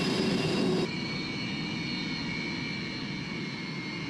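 A Sukhoi fighter jet's engine gives off a steady, loud roar with a high whine, close and continuous, as the aircraft sits on the runway at an air base. A brighter hiss cuts off in the first second.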